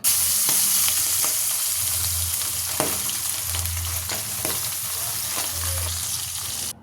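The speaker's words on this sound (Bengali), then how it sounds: "এবার একটা একটা করে মাছগুলো আমি দিয়ে দেব। পাবদা মাছ খুব কড়া করে ভাজবো না, হালকা করে ভাজবো।" Pabda fish laid one by one into hot oil for a light fry, giving a steady, close sizzle that fills the whole stretch with soft crackle; no one speaks.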